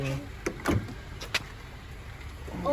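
A car's motorized seatbelt rises as the door opens, heard as a few short mechanical clicks and thumps followed by a soft whirring. The sounds are close and fairly quiet, with a brief voice at the end.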